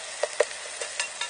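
Food browning in a hot pan, a soft steady sizzle broken by several short, sharp crackles and spits spaced through the moment, close by with no voices.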